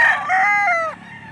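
A talisain gamefowl rooster at a market in Lipa City, Batangas gives a single loud, close crow lasting about a second, with quiet background afterward.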